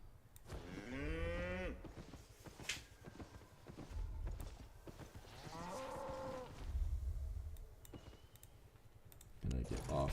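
Cows low in the Albion Online video game, two drawn-out moos with falling pitch, over soft keyboard clicking and a low rumble.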